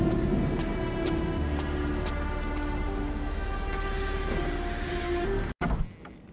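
Steady rain pours on a surface in the Sherlock Holmes The Awakened video game, a dense, continuous patter with scattered louder drops, loud and close, cutting off abruptly near the end.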